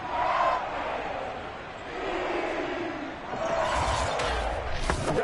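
Home crowd at a football game roaring in a broad sustained wash, swelling and dipping, with a few sharp thumps and louder surges toward the end; no commentary heard.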